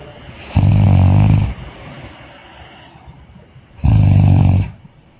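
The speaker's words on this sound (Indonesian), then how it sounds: "Orang ngorok." A person snores loudly and close by, two long rasping inhalation snores separated by quiet breathing, heavy and rattling each time.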